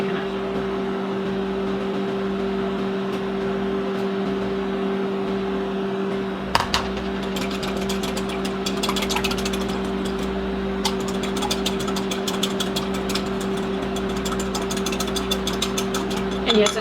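Electric kitchen mixer running steadily with a constant motor hum, joined halfway through by a gritty rattling as it works through a thickening Thanksgiving dessert mixture, close and continuous.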